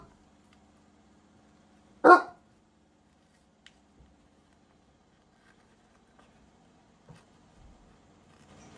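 A single sharp puppy bark rings out close and loud in an otherwise quiet room, followed only by a few faint ticks and rustles.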